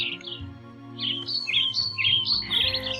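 Sparrows chirp and twitter in quick, overlapping bursts, high and fairly close, with a steady low hum underneath.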